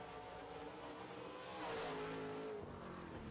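Modified race cars roar around a racetrack during a heat race, engines droning and rising as one passes closer, with a faint tire squeal beneath the motor noise.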